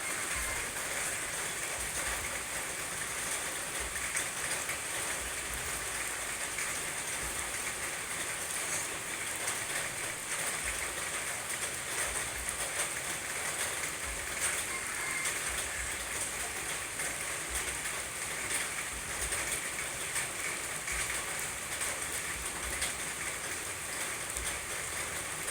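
Rain falling steadily during a cool, wet night in a Thai farming area where coffee and mango trees are in flower. It makes a continuous, even hiss that holds throughout the whole stretch, with no voices present.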